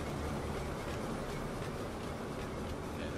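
A train ride in the video game Warframe: a dense, steady rumble with a faint clattering rhythm, loud and continuous throughout, with no talk.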